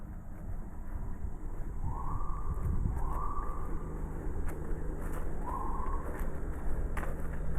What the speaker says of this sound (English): there are emergency sirens going off all the time, whether I'm at the river, here at the house